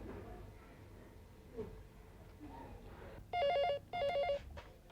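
A telephone rings twice in quick succession with a bright electronic warble, loud and close, following a stretch of quiet room tone with faint background sounds.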